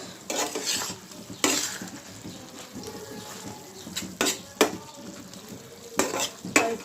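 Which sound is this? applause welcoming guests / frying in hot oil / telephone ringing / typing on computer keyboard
frying in hot oil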